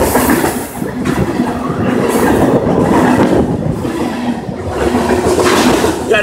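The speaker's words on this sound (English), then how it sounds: "Fishing right by a train on the bridge." A train crossing a bridge beside a crappie fishing spot, loud and close, with continuous rumbling wheels and rhythmic clickety-clack across the rails and faint squeals, filling the whole stretch with no talk.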